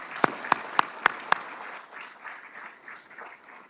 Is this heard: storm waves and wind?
no